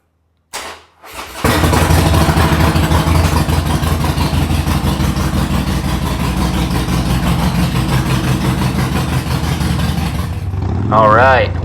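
A Harley-Davidson Nightster on a budget wide-glide build fires up after a brief crank, then settles into a loud, steady, close-up idle with an even loping rumble for about nine seconds before a short change at the end.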